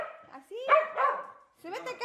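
A small dog barks and yips indoors, several short high-pitched barks in two bursts with a pause between, close and fairly loud, with a voice nearby.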